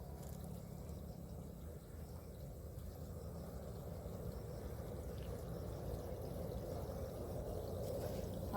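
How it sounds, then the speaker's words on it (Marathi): Irrigation water flows steadily along a channel in a grape vineyard, giving a continuous low rushing wash that stays close and unbroken. "पाणी यायला लागले बघा मित्रांनो."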